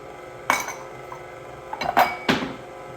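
Metal kitchen utensils clink and clatter as a spatula is fetched while making s'more cookies: three sharp, close bursts spaced over a few seconds, with quiet room tone between them.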